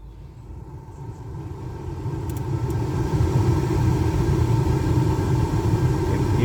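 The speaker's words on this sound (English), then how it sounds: "And here the motor is going." The blower motor of a 2007 VW Passat runs with a steady low rumbling hum that slowly builds in loudness and then holds even, with no voices over it.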